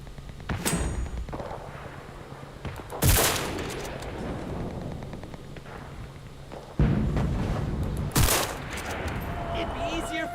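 Artillery fire support in Enlisted, a World War II shooter: booming heavy impacts land at intervals amid continuous background gunfire, with loud blasts standing out from a busy battlefield din.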